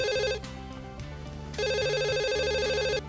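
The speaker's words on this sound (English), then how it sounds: "Your phone is ringing." A phone ringtone plays a repeating electronic melody, loud and close, with two bursts of ringing separated by a quieter musical passage.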